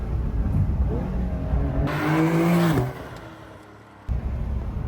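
Porsche 911 Carrera GTS engine climbs in pitch under hard acceleration, then a gear shift cuts the rise, followed by a quieter stretch and a sudden renewed surge.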